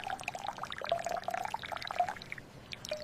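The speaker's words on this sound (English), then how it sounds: "He pours fresh orange juice." Fresh orange juice pouring into a glass in a kitchen, a soft continuous gurgling trickle over about three seconds, quiet and close with no voices.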